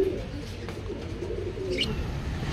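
Guldar pigeons for sale at a Bangalore market coo softly amid steady crowd noise, with a faint chirp near the end.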